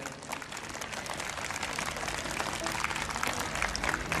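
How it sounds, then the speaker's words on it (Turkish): A concert audience in Amasya applauds the mayor, a dense, sustained wash of clapping that swells slightly toward the end, with a faint tonal hum beneath and no clear speech on top. "Bir alkış alayım başkanıma"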